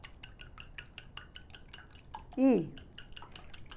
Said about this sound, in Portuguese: vamos mexer um pouco no ovo